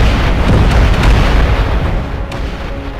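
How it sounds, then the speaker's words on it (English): A loud, dense explosion blast with a heavy low-end boom that fills the whole stretch and slowly tails off, no voices over it. "we're going to leave with a little bit of an explosion"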